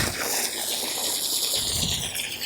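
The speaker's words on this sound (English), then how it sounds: "I'm going to water this in a little bit so that it's going to be easier for me to set my plant in there." Water gushing from a hose into a dug planting hole in soil while a dwarf banana plant is set in, a steady close rushing splash with no talk.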